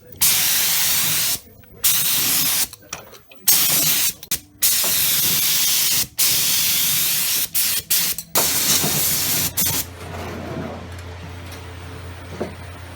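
Sealer sprays onto car bodywork during fiberglass and bondo rust repair in sharp, loud hissing bursts of varying length, separated by short silences, fading to a low hum and quiet handling at the end.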